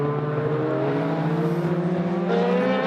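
Endurance race cars speed past on the Spa-Francorchamps circuit during the 6 Hours race, with loud, sustained engine tones that shift in pitch as they go by.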